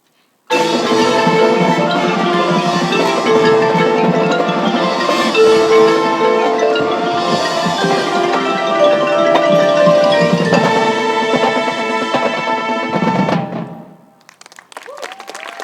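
A full high school marching band plays together loudly, brass and percussion in a sustained passage that cuts off, followed by cheering and applause.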